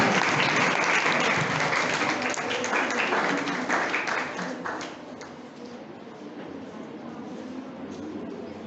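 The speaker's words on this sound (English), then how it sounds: "Give them a round of applause." Steady round of audience applause filling a hall at a school mathematics department session, dense and sustained clapping that thins slightly toward the end.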